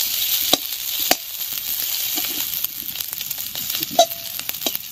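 Small chicken pieces, already fried with salt and turmeric, sizzle in a hot pan with chopped onion, giving a constant close crackle broken by a few light clinks and stirring knocks.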